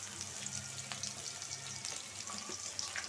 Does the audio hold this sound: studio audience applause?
no